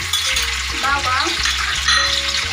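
Garlic frying in a pan for pinakbet, a close, continuous sizzle with a few stirring scrapes and a low background hum.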